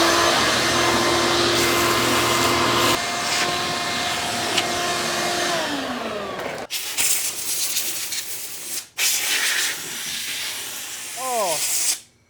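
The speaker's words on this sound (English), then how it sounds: "I'm gonna get my shop vac and suck all these pine cones and probably stink bugs out." A shop vac roars loud and close while sucking pine cones and stink bugs out of a truck, a steady whooshing hiss whose pitch shifts and cuts out briefly as debris is drawn in.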